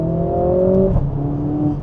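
A Mercedes-AMG A45 S hot hatch, driven with its four-wheel-drive system sending power to the rear wheels, revs hard under acceleration, its engine note climbing and then stepping up again after a gear change, loud and steady with no talking.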